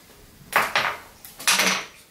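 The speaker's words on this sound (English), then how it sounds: "we're going to slice some clay" A sculpting tool slicing through clay being prepared for human-face pot pies, with two pairs of short scraping cuts, close and clear, no speech.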